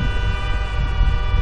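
A sustained vehicle horn blares continuously in GTA 5 during an offroad drive with a Range Rover, steady and loud throughout with no talk over it.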